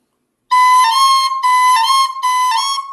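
A recorder plays a repeated pair of high notes, with brief squeaky blips at the note changes from the finger swap, close and loud.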